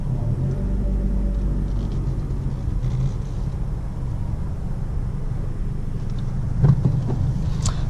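A 2017 Honda Civic Si four-door on the move gives a steady low engine and road rumble inside the cabin, with a constant drone and light wind noise and no talking.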